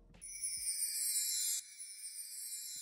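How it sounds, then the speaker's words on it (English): A clean synth chime rings out as a single bright, sustained tone with layered harmonics, struck once and slowly decaying alone, used as a classic bell layer in music production. "We have this normal chime, sounds like this."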